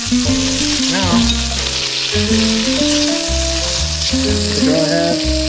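Salmon fillets pan-searing in hot oil give a steady, loud, close sizzle that runs the whole time, with background music playing over it.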